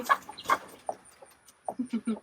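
Several short, soft clucks from chickens close by on a ranch, in scattered bursts with quiet gaps between them.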